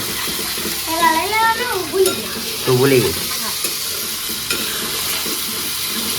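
Potatoes sizzle steadily in a hot pan with mustard seeds, with scraping stirs, while someone talks briefly over the frying.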